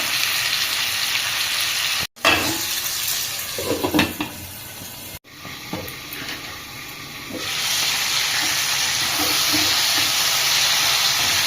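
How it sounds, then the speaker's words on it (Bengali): Chicken pieces fry in white oil in a kadai, a loud, steady sizzle broken twice by brief gaps and stirring clatter, then settling into a dense, even hiss. "ভেজে নেব আমি চিকেনটা"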